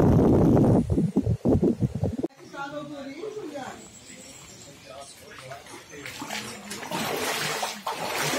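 Floodwater rushing over flooded farmland during a record flood in western Paraná, Brazil: a loud, broad roar of moving water opens the clip, then continues as a steady wash beneath people talking.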